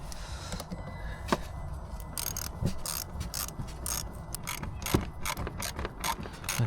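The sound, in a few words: tightening a Jubilee hose clip on a Ford Transit Connect air intake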